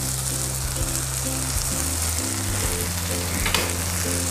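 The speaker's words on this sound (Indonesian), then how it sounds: "Kemudian saya tumis-tumis lagi sebentar" Green beans and egg stir-fry in a pan, giving off a continuous close sizzle with stirring, while low tonal sounds run steadily underneath.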